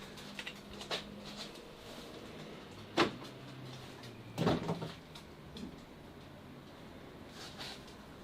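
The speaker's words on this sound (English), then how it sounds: "let's see if we can just open the door" A few isolated clunks and latch clicks from a small car's door being opened, spaced apart against a quiet, low background hum.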